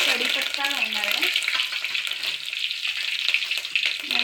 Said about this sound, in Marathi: आता मोहरी तडलेली आहे, त्याच्यात मी कढीपत्ता घालणार आहे